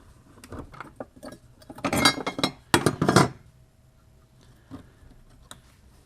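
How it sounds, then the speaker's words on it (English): A 16mm socket pops a cover off during trailing arm replacement on a 2002-06 MINI Cooper, giving close metallic clinks and rattles that build into a loud cluster midway, then fade to a few scattered taps, with no talking. "So first we pop this cover using a 16mm socket."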